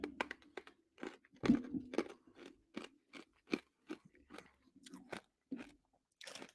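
Warheads sour hard candy being chewed close up, a run of sharp crunches and bites in an irregular rhythm, separated by short quiet gaps, with no talking.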